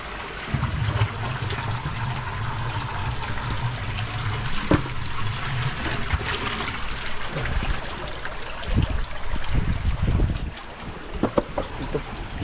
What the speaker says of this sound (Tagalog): Yung pakakawalan po namin ang tubig para bumabaw.